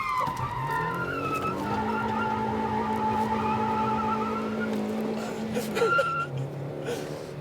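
A front-wheel-drive Toyota Yaris drifts through a corner, its engine droning at steady revs under a long, sustained tire squeal that fades near the end, with a brief voice near the end.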